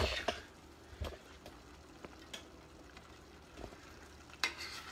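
Halibut fillet frying in a pan, giving a faint steady sizzle with a few brief louder crackles and scrapes scattered throughout, no voices.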